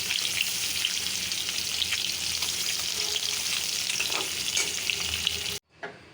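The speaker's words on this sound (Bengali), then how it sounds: "ডিমগুলি ভাজলাম কড়াইতে একটু লাল লাল করে" Duck eggs fry in a wok until browned, giving a loud, steady sizzle with bursts of crackling that runs for several seconds, then cuts off abruptly near the end.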